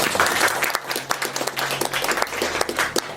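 Audience applause at a traditional hanok concert event, lively clapping with distinct individual claps standing out, continuous and fairly close.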